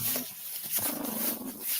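A puppy growls in short, low rumbling bursts close by, with small whiny rises between them.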